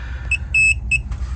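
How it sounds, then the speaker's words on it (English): Continuity tester beeping three times in short bursts as its probes touch during work on a wrecked Winnebago RV, the middle beep slightly longer, close and clear over a low background hum. "If it touches together, then I'm beeping it."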